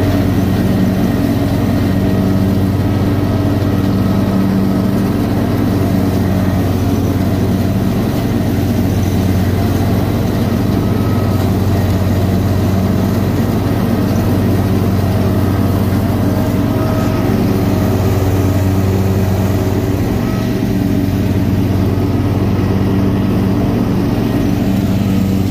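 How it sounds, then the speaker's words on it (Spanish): A tractor engine idles steadily at close range, a continuous low rumble with a heavy, even drone that runs without pause throughout. "Pinche tractor, cabrón."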